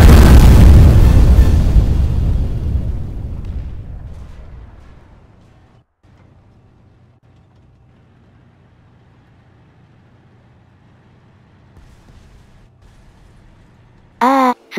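A tank cannon blast in the War Thunder video game, one loud booming explosion at the start that rolls away and fades over several seconds into near silence.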